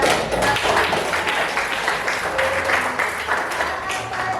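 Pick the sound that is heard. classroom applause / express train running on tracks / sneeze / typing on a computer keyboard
classroom applause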